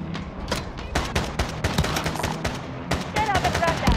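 Rapid bursts of anti-aircraft gunfire in the shooter game Call of Duty: Modern Warfare, loud repeated thumping shots packed close together over a few seconds, with voices talking over the fire.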